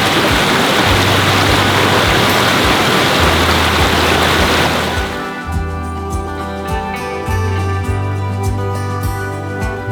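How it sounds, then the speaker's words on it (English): A secluded little waterfall at a campsite outing: a loud, steady rush of falling water for several seconds that then fades beneath sustained musical tones. "we actually found this kind of secluded little waterfall right here"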